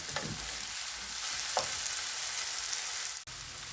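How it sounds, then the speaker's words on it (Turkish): Red capsicum peppers sauté in a pan, giving a steady, moderately loud sizzle with a couple of brief stirring scrapes and no voices. "Şimdi kapya biberlerimi ilave ediyorum. Bunlar hafif yumuşayıncaya kadar burada soteleyeceğim."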